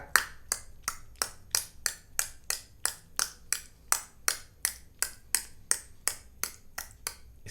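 A person makes tongue clicks imitating the trotting of a horse-drawn tanga cart, a steady, even rhythm of about two crisp clicks per second, close and with nothing else audible.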